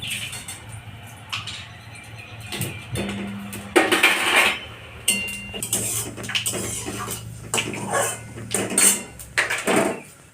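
Five-spice, a bay leaf and a dried red chilli tempered in hot oil in a pan for a Bengali shukto, with scattered close clinks and taps of utensil on metal over a faint sizzle.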